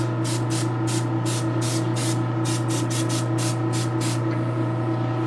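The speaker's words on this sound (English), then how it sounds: "if you spray it far away, you will run through the bottle pretty fast" A hand pump spray bottle of thin, watery paint is sprayed in a rapid series of short bursts, about a dozen hissy puffs in uneven rhythm over a steady low electrical hum.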